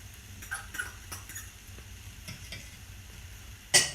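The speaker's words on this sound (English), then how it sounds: "Stir that on in. Ham's warming up." Ham warming in a frying pan for a ham and broccoli frittata, stirred with a utensil: soft sizzle under light scraping strokes, ending in a sharp clank.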